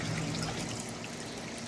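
Water trickles and pours steadily along a small creek that flows back into a pond, a continuous close splashing burble with no talking.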